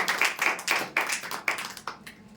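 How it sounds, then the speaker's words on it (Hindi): Congregation clapping for Jesus during a Hindi church service, a run of loud, sharp rhythmic claps in quick groups that thin out toward the end, with no talking over them. "आइए हम लोग फिर से यीशु के लिए ताली मारेंगे।"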